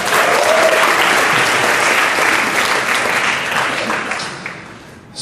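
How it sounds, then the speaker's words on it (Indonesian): Dense audience applause at a stand-up comedy show fills the room loudly and steadily, thinning slightly toward the end as the clapping winds down. "Tepuk tangan dong untuk Wawan dan juga Lolo tadi ya."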